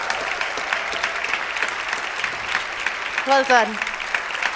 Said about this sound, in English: we can all give you a round of applause, please